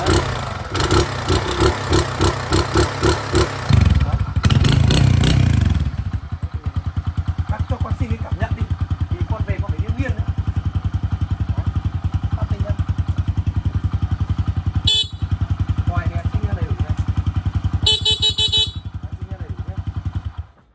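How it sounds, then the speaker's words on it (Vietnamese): A Honda Win 100 motorcycle engine runs close by, a loud, rapid, even thumping idle with a few revs early on, and faint voices in the background. "Bác nghe tiếng máy luôn này."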